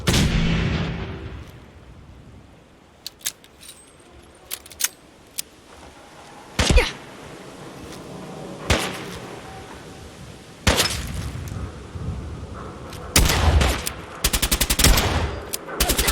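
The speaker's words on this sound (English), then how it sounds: "Something's out there. Opening fire." Loud bursts of gunfire in Fallout 4: scattered single shots, then heavier cracks and rapid volleys, with quiet stretches between them.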